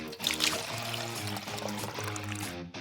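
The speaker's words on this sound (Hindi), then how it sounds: "पानी डालें और अच्छे से मिक्स करें।" Water poured into a mix of sugar and food coloring in a kitchen, a steady close splashing pour running under music for about three seconds.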